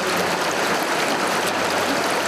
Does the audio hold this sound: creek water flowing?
yes